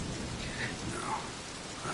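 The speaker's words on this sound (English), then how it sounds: "Damn storm." A storm brings steady, dense rain hiss with a faint low rumble of thunder underneath, continuous and even throughout, with no voices.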